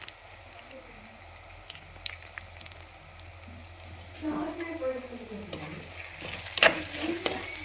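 Ginger garlic paste frying with onion leaves and potato in a pan, a steady low sizzle that grows louder and busier midway, with stirring scrapes close by and no talk.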